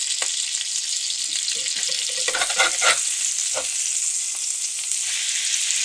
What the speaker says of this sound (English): We're going to go ahead and flip one.